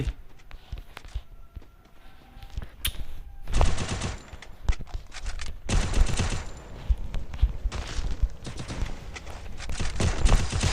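Bursts of rapid game gunfire crackle in several volleys, with quieter gaps and footstep-like taps between them.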